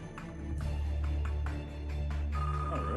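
Telephone ringing as the Banker calls in the Deal or No Deal Interactive video game, repeated ring bursts over a steady layer of game music.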